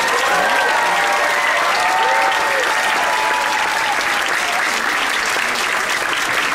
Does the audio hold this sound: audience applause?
yes